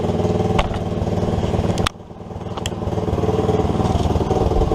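An SSR 110cc pit bike engine runs loud and close with a steady, rough mechanical beat, dipping briefly as the revs drop and then settling back into a continuous idle, with no talking.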